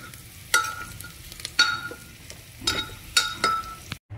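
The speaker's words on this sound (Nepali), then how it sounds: "नुन अनुसारको स्वाद तरकारीमा, सुकुटीमा, जिनामोटो चलाउँदै जाँदैछु" Sukuti dried meat sizzles in a hot pan with spices as a utensil scrapes and stirs it in several sharp strokes over a constant frying hiss, ending abruptly.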